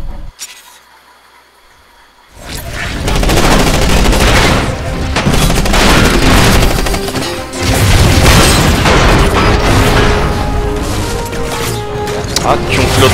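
Gunfire and heavy explosions in the mech combat game Front Mission Evolved, erupting after a quiet stretch into dense, loud, continuous bursts and booms, with a player's voice talking over the battle.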